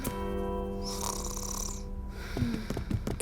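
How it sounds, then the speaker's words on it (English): Cartoon snoring from a mother character, one long drawn-out snore followed by a wheezy whistling exhale, then a few softer snuffling breaths, loud and close with no talk. "It was Mom snoring all along?"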